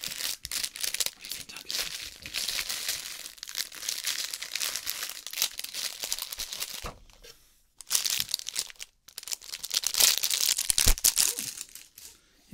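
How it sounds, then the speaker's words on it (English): Crinkly fabric rustles and crumples as it is handled close up during a pet-themed subscription box unboxing, a dense crackling texture with a couple of brief pauses and no speech. "Crinkly fabric sounds"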